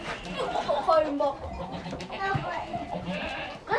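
Newborn goat kids, about a week old, bleat in short, wavering cries close by, several calls overlapping over a few seconds amid background voices and farm noise.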